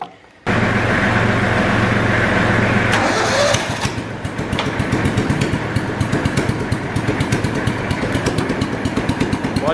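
The engine of a restored John Deere Gator 4x2 fires up after clutch work, then settles into a steady, slightly high idle with a loud, even chug close by.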